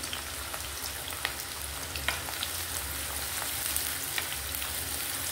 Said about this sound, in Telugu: ఆయిల్ హీట్ అయింది, ఇప్పుడు ఉల్లిపాయలు పచ్చిమిర్చి వేస్తున్నాను